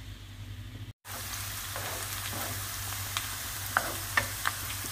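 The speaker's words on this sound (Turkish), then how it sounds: "Soğanımızı hafif kavurduk yağda." Chopped onion sautéing in oil in a pan for a dried bean sauce, a steady close sizzle and crackle running throughout with a few sharp pops near the end and a brief dropout early on.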